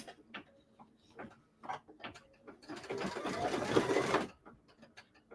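Embroidery machine doing final blanket stitching on a Jolly wall hanging, with rhythmic mechanical ticks and short whirring bursts, then a longer dense buzzing run of stitches before the ticking resumes, close and moderately quiet.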